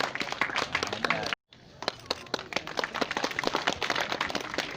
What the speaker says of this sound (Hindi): जोरदार तालियों से बहुत स्वागत करें